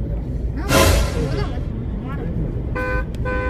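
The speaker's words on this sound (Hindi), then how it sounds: "साला देखो हॉर्न पे हॉर्न, हॉर्न पे हॉर्न यार" A car horn sounds in short, bright toots near the end, two honks in quick succession over steady road and engine noise, while people talk loudly inside the car.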